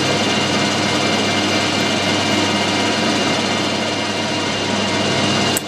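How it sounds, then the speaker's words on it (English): A steady, loud mechanical whir of a machine running at high speed, continuous and unchanging, as a very small drill bores into metal on a lathe. "We'll run this nice and fast using a really small drill."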